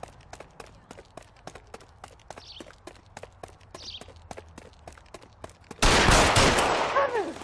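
Gunfire in the L.A. Noire game: a long run of sharp, evenly spaced shots cracks out in rapid succession, then ends in a sudden loud burst of noisy crash or blast that slowly fades.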